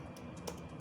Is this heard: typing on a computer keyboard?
yes